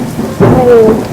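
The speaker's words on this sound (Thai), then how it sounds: "เสียงฟ้าผ่า" A loud crack and rolling rumble of thunder with steady rain underneath.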